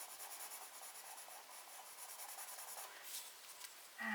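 Coloured pencil shading on paper for a portrait: soft, close scratchy rubbing in continuous back-and-forth strokes, faint and even, with a brief louder bump at the end.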